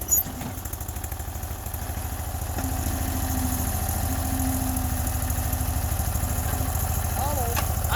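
A Sears loader's engine idles steadily with a low, even mechanical chug throughout, rising slightly after the first couple of seconds, with occasional faint voices underneath.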